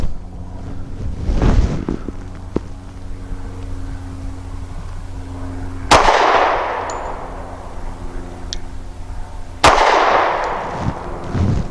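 Two sharp, loud gunshots from a Rock Island 3.1 inch double-stack .45 pistol, a few seconds apart, each with a ringing tail over outdoor wind noise.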